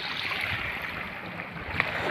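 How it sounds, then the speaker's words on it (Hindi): Water running off farm fields like a small river, heard as a soft, steady rushing wash with faint splashes, quiet and continuous, with a brief slight splash near the end and no talking. "देखिए हमारे इधर मतलब खेतों से कैसे पानी बहता है"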